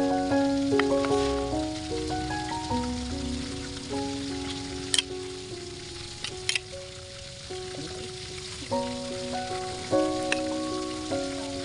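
A pot of pork liver stew with potatoes simmers with a steady bubbling hiss and occasional pops as carrots are added, while soft music plays in the background.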